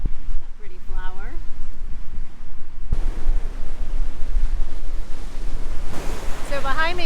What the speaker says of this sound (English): behind me where you see the waves crashing, this is the windward side